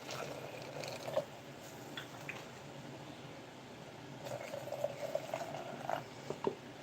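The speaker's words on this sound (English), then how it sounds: "I actually just put some water, boiling water, in each one." Boiling water is poured into glass jars of dry bean soup for canning, giving soft, quiet bubbling and liquid trickles with a few light clinks, close by and without talk.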